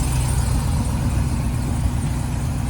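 A 2021 Ram TRX with its 6.2-liter supercharged engine idles in the rain, giving a steady, loud, low rumble that holds evenly throughout with no talking.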